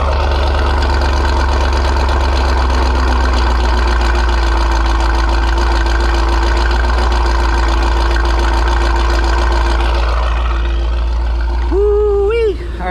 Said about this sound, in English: Let's get us a little blub blub blub from the rear.